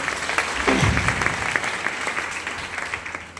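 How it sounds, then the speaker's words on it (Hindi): Loud applause from a crowd at an event fills the space, dense steady clapping that carries on throughout without a break. "एक बार जोरदार तालियां हो जाए।"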